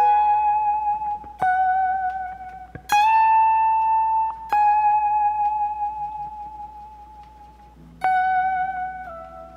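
A harmonized electric guitar lead line played high up the neck, sustained notes with pitch bends and slides, several phrases each starting with a sharp attack then ringing and fading, alone with no voices.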